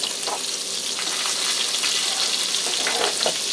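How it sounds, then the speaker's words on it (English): Pork chops frying in a pan with butter and olive oil give a dense, continuous sizzle. It stays loud and even throughout, with a few faint clinks over it. "please don't mind that frying sound in the background. I have some pork chops going to go with supper."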